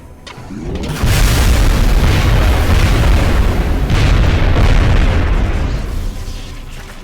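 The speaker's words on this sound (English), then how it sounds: "And there's your explosion." Explosion in the video game XCOM: Enemy Unknown, a loud sudden boom about one second in that swells into a sustained roaring blast and rumble, slowly fading toward the end.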